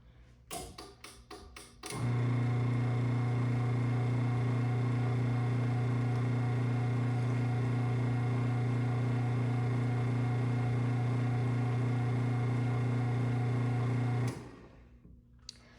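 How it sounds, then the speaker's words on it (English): A new garage door opener motor runs steadily and loudly for about twelve seconds with a constant hum and faint ticking, preceded by a few sharp clicks and ending as it stops. "The opener moves around a lot when it runs, the actual opener."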